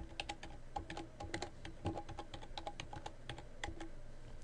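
A password being typed on a computer keyboard, with steady close-up key clacks in an irregular rhythm, loud and clear over faint background hum.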